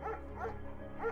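A German Shepherd in the Firewatch game lets out a few short, moderately loud woofs, one near the start, one in the middle and one near the end, over a faint steady background hum.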